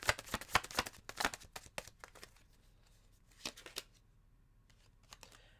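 Tarot cards being shuffled by hand, rapid riffling and flicking bursts in quick clusters, fairly close, with pauses between rounds and no talking.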